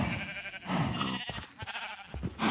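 Several video game sheep bleat in overlapping, wavering calls, fairly close, with a few short clicks and thumps between them.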